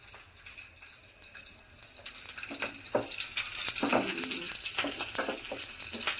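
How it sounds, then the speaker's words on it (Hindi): Water is poured into a hot pan while dhokla is being made, hissing and sizzling as it hits the oil, with splashes that grow louder and denser, and no talk. "ले अब इसमें पानी डाल दे"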